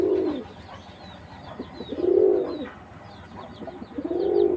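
Giribaz pigeons of an old original breed coo near at hand in three slow, rolling phrases spaced about two seconds apart. Soft chirps and rustling fill the gaps between them.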